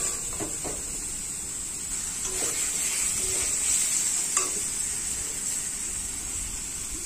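Spice paste frying in oil for a spicy fish curry of Bombay duck, cooked until the oil separates: steady close hiss of sizzling with occasional spoon scrapes and taps, no speech.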